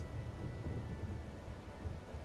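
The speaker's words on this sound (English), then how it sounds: "And it's still raining." Steady rain hisses with a low rumbling of thunder underneath in the video game Grind for Zani, a continuous, even wash of storm noise at moderate volume.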